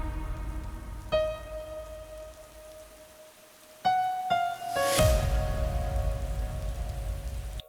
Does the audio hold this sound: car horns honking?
no